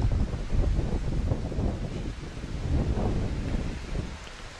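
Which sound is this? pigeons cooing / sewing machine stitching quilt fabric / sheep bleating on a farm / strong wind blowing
strong wind blowing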